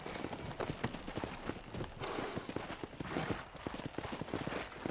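Horses gallop in the video game Red Dead Redemption, a loud, close, rapid, rhythmic drumming of hooves that runs throughout with no speech.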